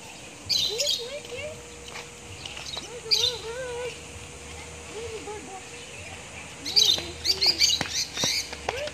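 Birds chirp and tweet in short bursts of whistled calls at an outdoor family outing spot, moderately close and scattered over several seconds, with quiet background between calls.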